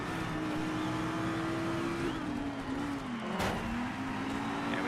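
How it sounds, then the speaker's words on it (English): A 2007 Dodge Viper GTS with an 8.5-liter 500 bhp V10 drones steadily through a one-lap video game race, its engine tone holding, dipping briefly near the end, then climbing again, loud and continuous with no talk. "it's a one-lap race in the best car in the game, the Dodge Viper GTS from 2007"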